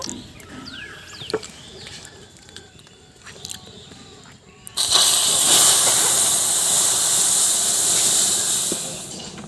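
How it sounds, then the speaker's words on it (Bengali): Milk poured onto hot caramelized sugar in a pan bursts into a loud, sustained hiss with steam halfway through, after quieter kitchen sounds and faint clucking chickens in the background, then gradually subsides. "এখন আমরা দুধটা ঢেলে দেব।"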